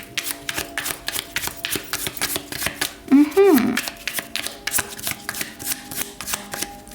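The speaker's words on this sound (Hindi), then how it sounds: "मैं थोड़ी सी और कार्ड्स लूँगी ऑप्शन 1 के लिए।" Tarot cards are shuffled in quick, steady riffling bursts with a short rising chime partway through, close and moderately loud.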